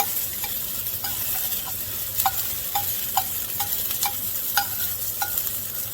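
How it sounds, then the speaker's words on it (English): Asparagus and tomatoes sautéing in oil in a pan, a continuous sizzle punctuated by a regular series of sharp utensil taps and scrapes from stirring, close and without voices. "right now we're having a true saute"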